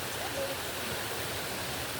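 Water falls steadily at a hot spring, a dense, unbroken rush of spray and splashing, close and loud throughout.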